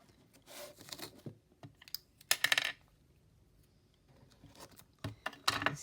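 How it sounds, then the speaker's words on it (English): Masking tape being pulled off the roll, pressed and folded over the edges of an upcycled food-packaging box, heard as crackly peeling bursts and taps. The bursts come in short, separated clusters with quiet gaps between them. "I am going to put a layer of masking tape"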